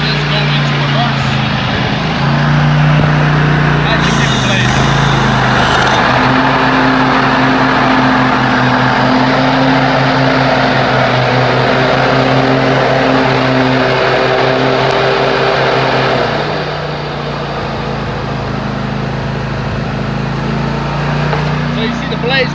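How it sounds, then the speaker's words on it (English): A Craftsman MTS5500 riding lawn mower engine runs steadily and loudly close by as the mower drives forward and back, its tone shifting once partway through, with a person talking over it. "my drive video of this Craftsman MTS 5500 riding lawnmower"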